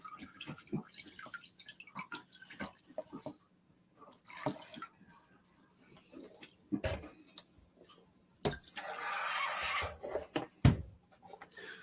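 Water sloshes and rinses Klondike paydirt in a gold pan in the Yukon. The sound is quiet and intermittent, with splashes, gritty scraping of gravel against the pan and small ticks, all close by and with no talking.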